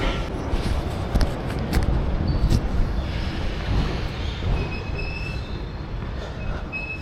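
A London Underground Piccadilly Line train pulls into the station, a loud steady rumble of wheels on rails with metallic squeals and brake hiss, heard up close on the platform with no talking.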